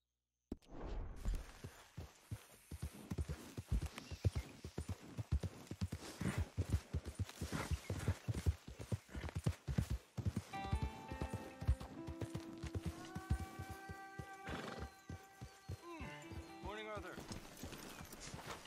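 Horse hooves clip-clop at a steady walking pace in Red Dead Redemption 2, close and distinct, followed by in-game chatter over background music.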